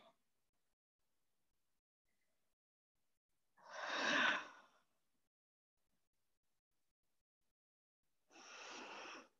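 Two long, breathy exhales during a yoga exercise, each lasting about a second, spaced apart by quiet stillness, close and soft.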